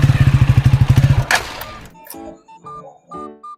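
A motorbike engine runs briefly with a rapid, even chugging pulse, then cuts off abruptly, followed by a few scattered clicks and short tones.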